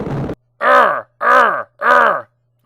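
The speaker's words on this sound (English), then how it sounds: "Every time Darkman jumps, he makes this peculiar sound." Three loud, evenly spaced grunts, each a short voiced effort sound, play alone as the jump effect for the Darkman character in the Amiga video game's rooftop level.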